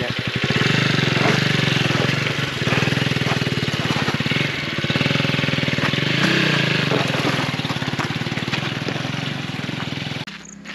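A motorbike engine revs hard and continuously while climbing a steep slope on a rural trail, the loud, close, chugging drone holding for about ten seconds before cutting off abruptly.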